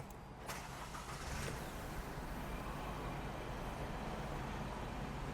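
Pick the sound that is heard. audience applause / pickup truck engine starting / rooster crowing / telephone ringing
pickup truck engine starting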